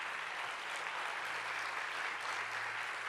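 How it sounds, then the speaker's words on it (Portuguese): Church congregation applauding during a sermon, dense continuous clapping filling the space at steady volume, with faint voices beneath. "Pode aplaudir Jesus, pode aplaudir Jesus"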